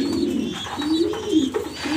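Soft, low cooing close by as a blue grizzle racer pigeon hen feeds her chick, a few drawn-out murmuring calls with faint rustling between them.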